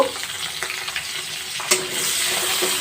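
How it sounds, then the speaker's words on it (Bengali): Potatoes, carrots and beans with salt and turmeric fry in a pan over lowered gas for a semolina khichuri, with a constant close sizzle, light scraping from stirring and one sharp clink partway through. "আলু গাজর বিনস দু মিনিট ভালো করে গ্যাসের ফ্লেমটা কমিয়ে দু মিনিট একটু ভেজে নেব"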